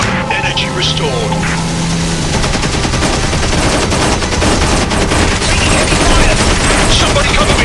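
Toy planes in the War Wings video game fire their guns in loud, continuous rapid bursts, a dense unbroken stream of gunfire that runs the whole time.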